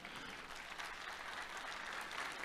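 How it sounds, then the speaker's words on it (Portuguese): Steady applause from a church congregation, a dense continuous patter of many hands clapping at even loudness throughout, with no voices standing out. "Isso merece uma salva de palmas, não merece?"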